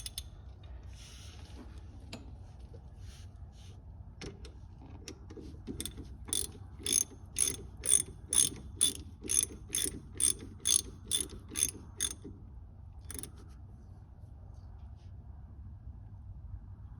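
A ratchet wrench tightens a car's brake line fitting in a run of about a dozen crisp, evenly spaced clicks, close up over a steady low background hum.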